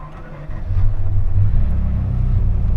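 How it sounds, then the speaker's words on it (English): Ferrari F40 engine pulling away from a standstill, a quiet idle that swells into a loud, deep, rumbling surge and holds steady, heard close from inside the car. "First time driving a Ferrari F40."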